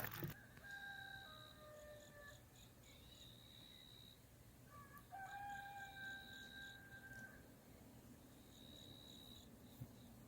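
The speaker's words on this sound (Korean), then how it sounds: "동네 새벽닭이 울고 있네요." Village roosters crow at dawn around 3:45 near a foggy forest bike path in rural Yangpyeong, Korea: a few drawn-out, distant crows rise and fall over a steady bed of insect chirping.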